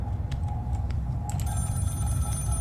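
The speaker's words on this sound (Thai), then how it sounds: "โทรศัพท์ที่ไหนดังอะ่ะ" In the horror film Scream, a telephone keeps ringing somewhere nearby, with brief repeated ring bursts over a low rumbling ambience and a sustained thin high tone toward the end.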